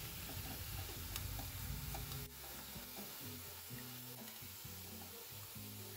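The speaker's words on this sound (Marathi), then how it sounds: "अशाच प्रकारे सर्व वडे तळून घ्यायचे आहे." Vadas frying in hot oil for kanji vada, a steady close sizzle and bubbling with some stirring or scraping, easing slightly partway through, with no talking.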